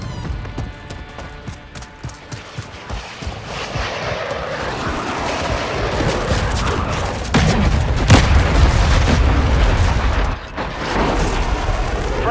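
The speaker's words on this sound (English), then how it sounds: "Friendly cruise missile deployed." Cruise missile strikes in Call of Duty: Modern Warfare III set off heavy booms and rumbling blasts, growing louder after the midpoint and capped by a sharp impact with a dense, roaring tail.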